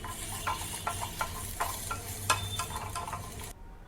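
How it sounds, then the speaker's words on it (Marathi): Ginger, about half an inch, and seven to eight garlic cloves roasting with masala in a pan for Khandeshi dubuk vade curry, giving a steady close sizzle with repeated stirring scrapes, then cutting off near the end. "आलं आणि लसूण आलं मी अर्धा इंच घेतलेलं आहे आणि सात ते आठ पाकळ्या लसूण घेतलेला आहे तो सुद्धा आपण ह्या मसाल्यासोबत भाजून घेऊया"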